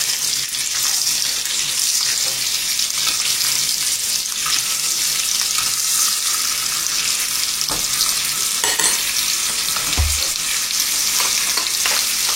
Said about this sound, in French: On les stack, donner une petite coloration de chaque côté sur ce lit.